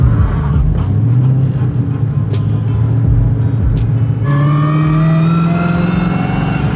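A twin-turbo, supercharged Mustang's straight-cut gears whine from inside the cabin, a steady tone over a loud engine rumble that steps up in pitch partway through as the car pulls.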